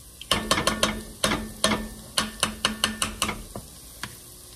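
A spoon scraping and knocking around a pan as tomato paste is stirred into sizzling vegetables, a run of about a dozen close, crisp strokes in quick rhythm over a faint sizzle.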